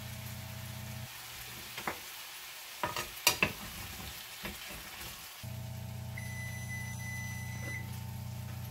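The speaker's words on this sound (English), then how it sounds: "I'm just going to let these fry while the meatloaf finishes up" Food frying in a pan on the stove while meatloaf bakes, giving a steady sizzle and hiss that drops away briefly as a few clatters and stirring knocks sound, then returns over a constant appliance hum.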